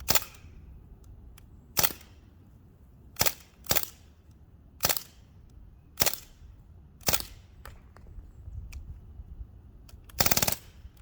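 Shots from an AP-4 air rifle ring out as about nine sharp, loud cracks at irregular intervals of roughly one to two seconds, each snapping off quickly against a quiet background.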